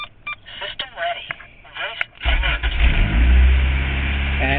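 A Honda Civic is started with its push button: soft clicks and beeps come first, then the engine cranks and catches partway through and settles into a loud, steady idle close by.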